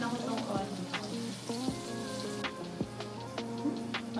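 Chopped onion sautéing in a hot pan for shrimp pesto pasta, a steady close sizzle with scattered crackles and a few clinks of a utensil against the pan.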